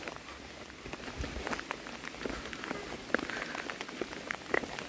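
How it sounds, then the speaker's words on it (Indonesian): Heavy rain pours suddenly onto surfaces at a hillside shelter near a railway line, a dense continuous hiss with scattered louder drops and splashes, steady and close, with no voices. "Hujannya tiba-tiba besar ya."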